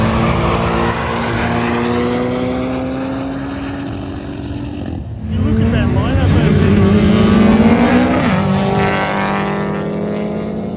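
Porsche race car accelerating hard during a roll racing event, engine note rising and sweeping upward, loud and close, with people talking over it.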